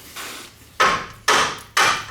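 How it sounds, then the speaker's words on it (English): Three sharp metallic-wooden hammer knocks on school bus rear brake shoes in steady succession, each striking hard and ringing briefly, preceded by a softer scrape, close by with no talk. "let's get a hammer"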